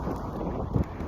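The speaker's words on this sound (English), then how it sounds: "It's windy here in LA." Wind blowing outdoors on a sunny day in Los Angeles, heard as steady broadband rumble and buffeting against the microphone, loud and close with one stronger gust, no speech.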